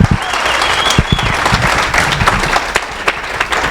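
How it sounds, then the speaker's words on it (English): An audience at the 2015 AOA National Fleece Show awards breaks into loud, close applause, sustained and dense, with a few sharper individual claps standing out. "this gal really deserves a round of applause, plus all the volunteers."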